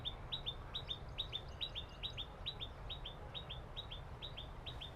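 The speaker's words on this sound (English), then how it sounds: "can you guys hear that bird?" A bird outdoors chirps in a quick, repeated series of sharp, high tweets, one after another in an even rhythm over a low background rumble, fairly faint and without any speech.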